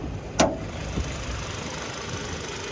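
A Hyundai Santa Cruz's 2.5-liter naturally aspirated four-cylinder engine idles with a steady low rumble, heard up close at the open engine bay, with one brief sharp click early on.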